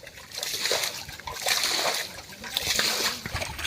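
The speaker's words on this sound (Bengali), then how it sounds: "তুমি তো খুব জোরেই ছিটছো দেখছি" Water bailed and splashed out of a small pool on a Sundarbans riverbank during fishing as the tide rises, heard as repeated vigorous splashing and sloshing strokes, close by, with voices talking over it.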